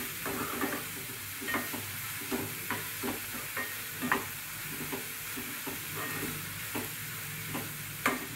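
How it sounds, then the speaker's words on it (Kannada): Farm mushrooms frying in a pan until brown, with a spatula stirring and tapping in a steady rhythm of light knocks over a quiet, continuous sizzle, close and alone. "ಬ್ರೌನ್ ಕಲರ್ ಬರುವವರೆಗೆ ಫ್ರೈ ಮಾಡಿ"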